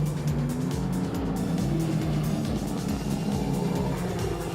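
Race cars roar past on a circuit as the race leader laps a Lotus, a loud continuous engine blare with pulsing revs and shifting pitch from several cars close together.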